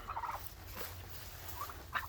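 A turkey kept among chickens and roosters gobbles in a few short, faint bursts, at the start, near the middle and again at the end, with quiet gaps in between.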